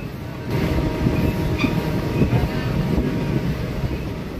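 A passenger train runs through a tea garden on the Belonia to Agartala line, producing a continuous low rumble of wheels and carriages. Gusty wind noise buffets the microphone, with faint rattles over the top and no talk.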